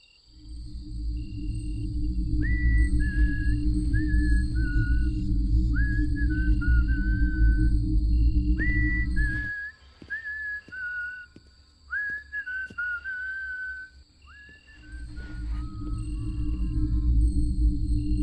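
Two whistled phrases of rising and falling notes sound over a loud low rumble, then a second, answering whistle follows in a quieter stretch, with a steady high tone running throughout; no one speaks.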